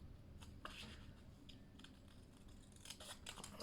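Scissors snipping paper close by in quiet, irregular cuts as a paper pocket for a junk journal is trimmed down.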